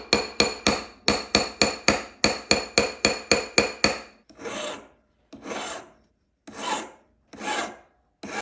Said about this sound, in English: We're going to grind the inside of the ring, and then we're going to start shaping the metal